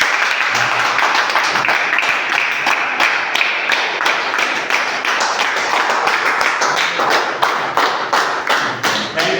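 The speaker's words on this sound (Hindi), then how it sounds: "हमारे great mentor Shri Rampal sir के लिए जोरदार ताली" Loud, sustained applause from a business meeting audience honoring their mentor, dense overlapping claps with sharp individual hand smacks standing out, steady from start to finish with no voices.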